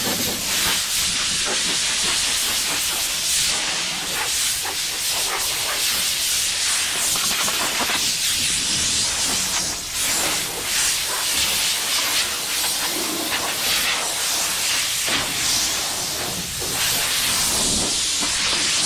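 A compressed-air blow gun blasts a car's bodywork clean before spray painting with a flat black turbo spray can, giving a loud continuous hiss in uneven surging bursts.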